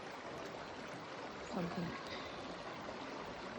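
Water rushes steadily at Cotter Dam in Canberra, a constant broadband wash with a person speaking briefly and faintly in the middle.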